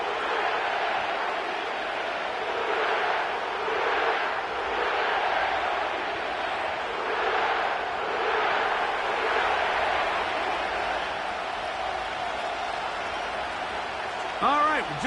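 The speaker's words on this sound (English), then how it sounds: "The crowd is definitely ready." A packed stadium crowd roars at the Caesars Superdome in New Orleans in the Madden 25 football game, a steady wash of cheering and applause rising and falling in swells for about fifteen seconds, with commentators talking over it.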